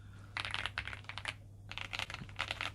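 Fast typing on an Aula F75 mechanical keyboard with pre-lubed switches and a plastic case, giving two close bursts of smooth, muted keystrokes with a short pause between them and a low steady hum underneath.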